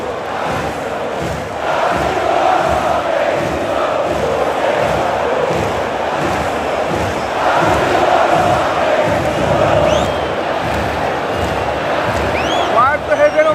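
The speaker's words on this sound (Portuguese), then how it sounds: "Muito alto a torcida do Flamengo no Maracanã" Flamengo supporters at the Maracanã roar and chant loudly as a massive stadium crowd, a steady wall of voices swelling in waves, with scattered whistles near the end.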